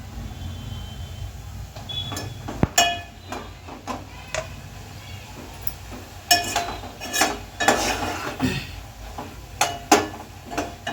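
Lentil curry stirred in a boiling pot, with repeated scraping and knocking strokes of a spoon against the vessel over a low steady bubbling rumble, close and moderately loud, no talking.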